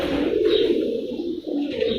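Racing pigeons coo nearby in soft, throaty, repeated rolling calls that stay loud and close, with no talk over them.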